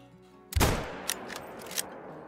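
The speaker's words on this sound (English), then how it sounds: "And we're going to have to take a shot with this rifle." Rifle shot in the hunting video game Call of the Wild on an Alaskan mountain, one sharp loud blast followed by a rolling echo and a few fainter cracks reverberating into the distance, no talking.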